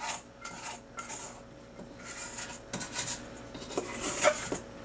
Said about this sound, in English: Scrape out my bread bowl.